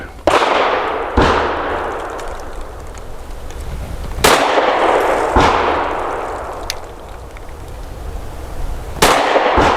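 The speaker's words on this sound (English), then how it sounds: "For 5 shots from 7 yards, we're going to keep trying this Callaway Ballistics 135 grain." A Mossberg MC2sc pistol fires Callaway Ballistics 135 grain rounds at 7 yards, five loud, close, sharp reports spaced irregularly a second or more apart, each followed by a ringing outdoor decay.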